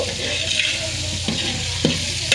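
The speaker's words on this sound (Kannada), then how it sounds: "ಶುಂಠಿ ಬೆಳ್ಳುಳ್ಳಿ ಪೇಸ್ಟ್ ಫ್ರೈ ಆಗಬೇಕು" Ginger garlic paste fries in a hot pan, a loud continuous close sizzle with a few scraping stirs of a spatula breaking through.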